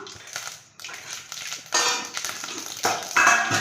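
Mustard seeds splutter and crackle in hot oil in a pan for mutton chukka, bursts of loud sizzling pops rising in waves.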